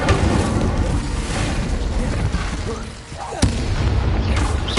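An Incendio fire spell cast in Hogwarts Legacy gives a loud, dense roar of fiery blasts and crackle that fills the stretch, with a brief sharp burst near the end.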